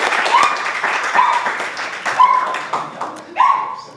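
An audience applauds during a Bible lesson on the Beatitudes, the steady clapping broken by several sharp barks from a small dog nearby.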